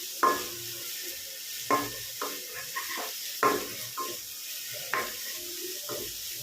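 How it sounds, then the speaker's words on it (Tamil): Crushed spices for a chicken semi gravy sauté in a pan, with a soft sizzle under repeated sharp metal spatula scrapes and clinks every second or so. "பச்சை வாடை போகிற அளவுக்கு நல்லா வதக்கி விட்டுடலாம்."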